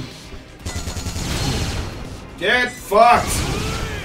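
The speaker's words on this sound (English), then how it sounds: "Oh, grenades!" Gunfire and grenade blasts in the zombie shooter Yakuza: Dead Souls, with a steady rattle of shots and heavy thuds running through, loud and close, while someone shouts over the din.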